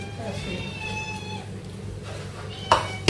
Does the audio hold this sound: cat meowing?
yes